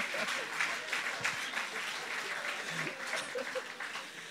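A church congregation applauds during a sermon, steady dense clapping from many hands lasting a few seconds at moderate level.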